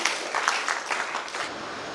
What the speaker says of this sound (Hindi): एक बार जोरदार ताली बजाएं सर के लिए।